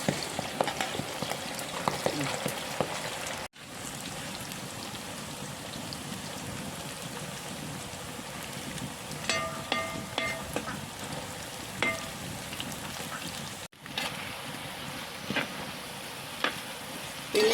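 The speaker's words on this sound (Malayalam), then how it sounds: "കുറച്ച് എണ്ണ വെച്ചിട്ടുണ്ട് നമുക്ക് കുറേശ്ശെ ഇട്ടിട്ട് വറുത്തെടുക്കാം" Steady crackling sizzle of jackfruit pieces frying in hot oil, continuous and close, with a few brief pauses and occasional clinks.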